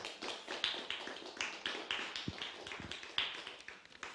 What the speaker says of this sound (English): you deserve one more applause for this